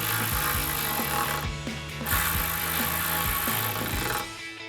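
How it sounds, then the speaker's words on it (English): A hand ratchet tightens the bracket bolts on Amp Research PowerStep running boards fitted to a 2007-2013 Silverado 1500, a fast run of close metallic clicks with a short pause between strokes, no talk. "then you can throw a ratchet on the other side"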